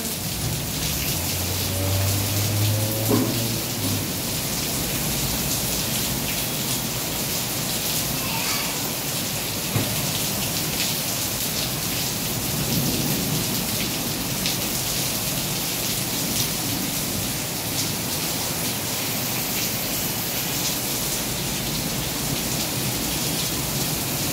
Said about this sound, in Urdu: بارش ویسی تیز ہے